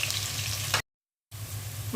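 Garlic and onion fry in hot oil for a beef and chickpea-lentil curry, a steady close sizzle that cuts out completely for about half a second, then resumes just as loud.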